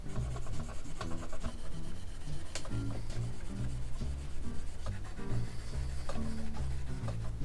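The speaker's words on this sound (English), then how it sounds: "Next step, just going to polish those frets." Steady abrasive rubbing from polishing the frets on an ESP LTD M-207 electric guitar, a close, continuous back-and-forth scrubbing with no voices.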